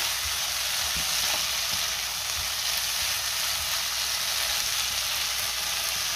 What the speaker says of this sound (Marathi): आता साधारण 1 मिनिट मी परतून घेणार आहे